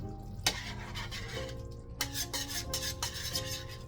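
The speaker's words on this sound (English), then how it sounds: "We're stirring in that gravy master." A spoon stirs Gravy Master browning sauce into a pot roast in a pot, giving soft scraping and a few clinks against the metal, with a low steady hum behind it.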